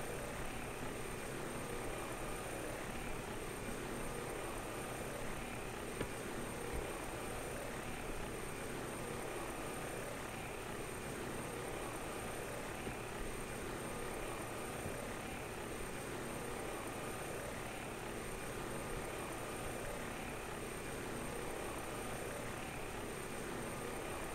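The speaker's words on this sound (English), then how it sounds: "it's the second helicopter" A helicopter in a flight simulator drones on continuously with a steady, even engine and rotor hum. It stays constant and fairly quiet throughout with no voices.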